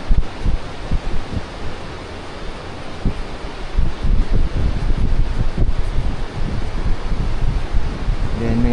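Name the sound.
strong wind on a bridge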